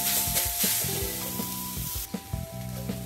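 Grated coconut and jaggery cook in a pan for fried modak stuffing, a soft sizzle broken by repeated scraping stirs and light knocks, fairly quiet with a steady hum behind it and no talking.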